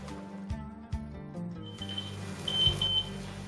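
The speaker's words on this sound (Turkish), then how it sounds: "Alarmı kapatıyoruz." Bright, high electronic beeps sound in a short run near the end, over a low steady rumble and clatter.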